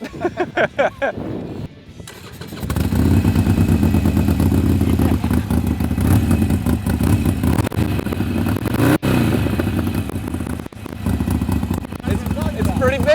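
A Harley-Davidson Sportster motorcycle engine runs loud and steady after a brief start, with a low rumbling tone throughout and people talking over it.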